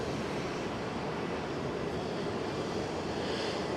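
An incoming aircraft at Fukuoka International Airport in Japan produces a loud, steady, broad engine roar that holds evenly throughout, with no voices.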